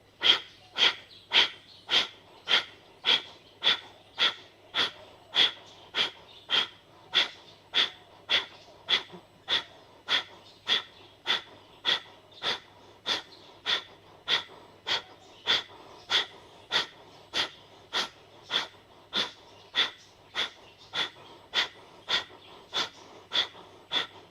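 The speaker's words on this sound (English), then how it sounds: "Beautiful, strong, powerful breaths." Forceful rhythmic breathing in a yoga class, sharp exhalations pulsing evenly about once a second for the whole stretch, close and loud with no talk between them.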